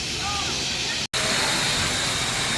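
Dollywood's steam train Cinderella blows off steam on a night during Smoky Mountain Christmas, a loud, continuous roaring hiss close by, broken only by one abrupt instant of silence before resuming at full strength.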